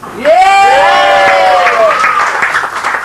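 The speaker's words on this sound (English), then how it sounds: "they're going to scream, cheer and go, yay!" An audience at a stage hypnosis show in Ibiza screaming and cheering, with a loud rising and falling shout of voices and applause that gradually fades.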